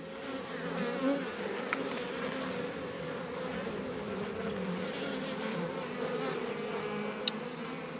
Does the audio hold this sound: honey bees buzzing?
yes